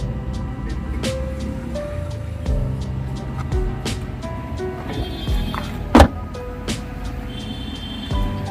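Power windows on a used car at a dealership whir in several short motor runs, each a steady hum, mixed with scattered clicks and one sharp thump; no one speaks.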